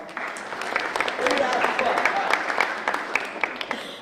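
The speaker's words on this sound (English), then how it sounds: "Give yourself a big round of applause." Seminar audience at an entrepreneur tour event claps for themselves, a moderately loud scatter of hand claps rising and thinning out with voices talking over it.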